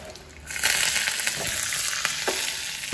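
Three dried red chillies and curry leaves dropped into hot oil in a home kitchen, giving a close, steady crackling sizzle that jumps up sharply as they hit the pan and keeps spitting, with light stirring.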